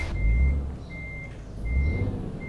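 Truck in Euro Truck Simulator 2 stuck in mud: a low engine rumble swells and fades while a steady electronic reversing beep repeats in three long tones, no voices.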